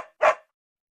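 A single sharp dog bark, close and fairly loud, followed by silence.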